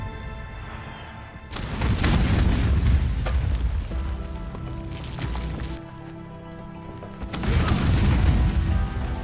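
Bombs detonate in the video game Conan Exiles, deep booming blasts that rumble loudly, one starting near the second-and-a-half mark and another near eight seconds, with a dense, sustained roar between them.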